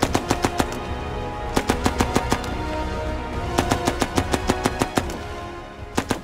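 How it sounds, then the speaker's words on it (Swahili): Bursts of gunfire crack across a city at night, Ouagadougou under attack, in rapid volleys of sharp reports separated by short pauses, loud and echoing with no voices. "Milio ya risasi inapasuka kama matawi makavu kote jijini humo."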